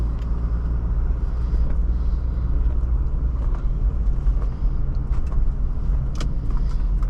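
A 1987 Mercedes-Benz 300TD diesel engine idles just after starting, a loud, steady low rumble with a faint clatter running unbroken from start to finish, no voices.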